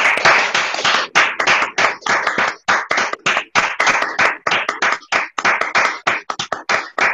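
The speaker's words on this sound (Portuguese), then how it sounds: "a gente vai para as palmas" Participants on a Zoom book launch call for author Flávia Alice Zogbi applaud together: dense, uneven clapping from many hands arrives in choppy bursts that cut in and out, with no talking.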